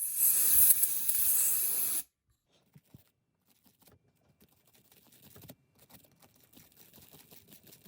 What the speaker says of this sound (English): We can use our compressed air once again